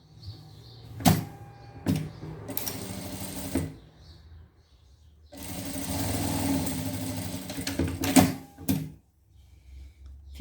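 A sewing machine stitches a seam on a trapeze dress in several runs, a short burst first and then a longer steady whirring stretch. Brief clicks and quiet pauses fall between the runs.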